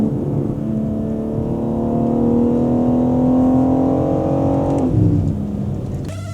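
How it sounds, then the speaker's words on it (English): A BMW G82 M4 fitted with a DCE equal length X-pipe and OPF delete revs steadily inside a tunnel, its loud engine note climbing in pitch for several seconds before dropping, heard from the cabin. "to demonstrate the sound we have to up the revs a little bit"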